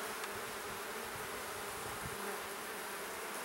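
Dense swarm of honey bees buzzing steadily at an open hive during an inspection, a continuous close drone with no voices.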